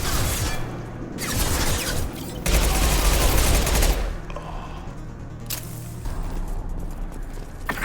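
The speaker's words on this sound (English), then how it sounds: "Firing an impact shot." Loud bursts of weapon fire from an impact shot in the video game Mass Effect 2, several heavy crackling volleys separated by brief quieter gaps with a low rumble underneath.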